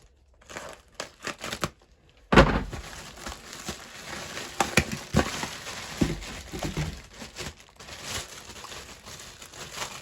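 Plastic wrapping on boxed table lamps crinkles and crumples as it is handled and snipped with scissors, giving close, irregular rustling bursts with sharper crackles and short pauses throughout.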